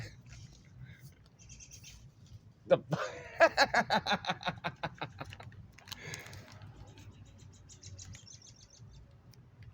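A bird calls from trees in the distance, letting out a rapid descending series of chattering, laugh-like notes amid faint outdoor ambience, with brief talk nearby.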